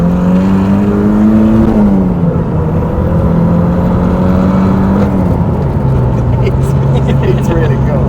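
A Porsche 944 swapped to a turbocharged SR20DET S15 engine cruises along, its loud, close engine note humming and stepping down in pitch as revs fall through shifts, with no one speaking over it.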